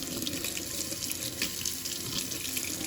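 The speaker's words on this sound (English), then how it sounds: "I'm going to rinse off my hands and my knives." Running tap water splashes into a kitchen sink as hands and kitchen knives are rinsed under it, a steady close stream with no speech.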